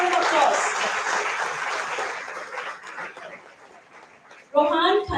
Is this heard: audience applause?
yes